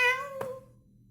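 A cat named Piko gives a single short, close meow that fades quickly into quiet.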